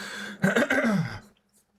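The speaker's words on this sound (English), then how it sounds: "I don't know if you can hear me trying to clear my throat to sort it out" A man, a gaming commentator casting a Battlefield 6 match, clears his throat roughly and audibly up close, a short harsh burst of throaty rasps followed by near silence and a faint click.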